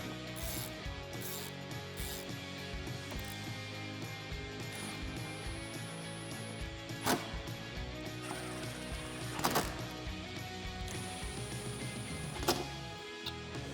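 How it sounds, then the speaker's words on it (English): Allen head bolts on a Jeep Wrangler JL spare tire mount tightened with a 4mm Allen key or socket, quiet repeated ratcheting clicks and metallic turns with a few sharper clanks, close and faint. "Then we can tighten them up with a 4mm Allen key or Allen socket."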